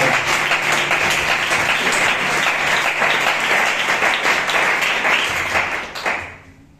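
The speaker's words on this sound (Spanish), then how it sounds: "Dale un aplauso al Señor" A church congregation applauds together in a sustained, dense burst of clapping that holds steady for several seconds and then fades out quickly, with a faint voice underneath.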